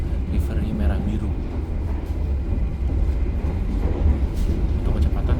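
Aboard the Taksaka Luxury train passing the Blambangan Express near Karawang at about 112 km/h, a dense, loud low rumble of rolling rail noise fills the cabin steadily, with faint rattles on top.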